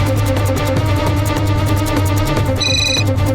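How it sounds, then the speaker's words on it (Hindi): An electronic phone ringtone chirps near the end over a dense, loud musical background, a short bright tonal burst standing out against the score. "किसका फोन है?"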